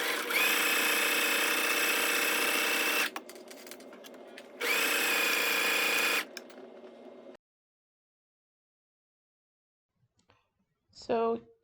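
Two loud steady runs of a sewing machine stitching fabric panels together, each a few seconds of high whirring motor, separated by a pause, then silence and a brief clatter near the end.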